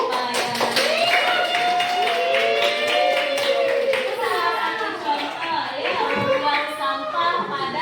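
Students clapping in a high school classroom, a short burst of applause from the class with a teacher's voice and children's talk running over and through it.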